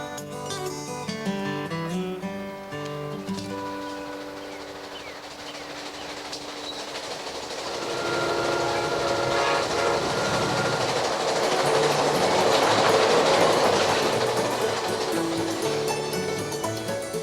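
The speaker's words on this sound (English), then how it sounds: "Back on board, the train continues east, traversing the length of Florida's Panhandle" A train rumbles steadily along the tracks, its noise swelling as it passes, with a rhythmic clatter and a musical tone fading out at the start.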